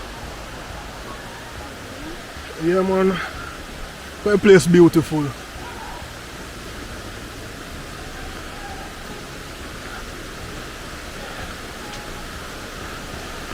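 Steady, broadband rush of a river flowing beside a walkway in Manchester fills the background throughout, with two brief bursts of a voice talking over it near the start.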